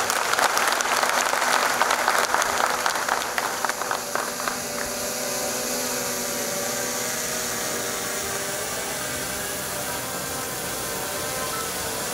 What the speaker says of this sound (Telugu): మనందరం మరొకసారి రాంబాబు గారికి చప్పట్ల ద్వారా ధన్యవాదాలు తెలియజేద్దాం